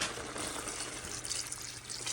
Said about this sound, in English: so now I'm going to add the water